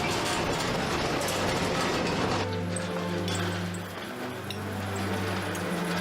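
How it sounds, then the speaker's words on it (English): A primitive train running on a sugarcane plantation, with steady mechanical rumbling and clanking of cars and tracks that shifts to a lower, droning engine hum partway through, continuous and fairly close. "The train coming into the plantation for conveyance of the sugarcane."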